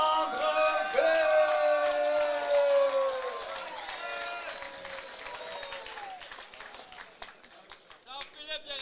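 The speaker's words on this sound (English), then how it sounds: "Make some noise for your champion and the man who puts it all together, Phil Allaire Landreville." Crowd cheering and whooping at an amateur K1 kickboxing night in Québec, erupting loudly under a shouting announcer's voice and music, then thinning into scattered claps and calls.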